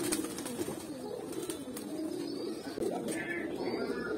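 Cooing from racing pigeons, including an aluminium-coloured male, steady and close over a continuous low hum, with faint chirps and no speech.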